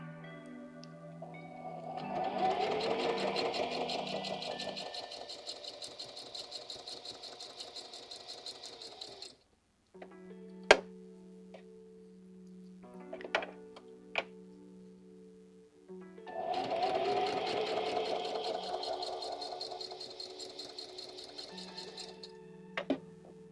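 Sewing machine stitching through vintage paper pages of a flip-flop junk journal, running in two long, steady whirring bursts separated by a quieter stretch of scattered clicks and handling.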